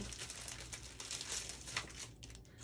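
A foam adhesive sheet for card making handled up close, giving a continuous dense crinkling and crackling with a few tearing rustles, fairly quiet and with no voice.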